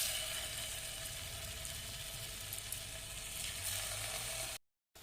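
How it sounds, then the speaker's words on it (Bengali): Vegetarian koftas frying in hot oil, a steady crackling sizzle up close that runs evenly and then cuts off abruptly near the end. "তেল গরম হয়ে গেছে, এখন আমি এগুলোকে ভেজে নেব।"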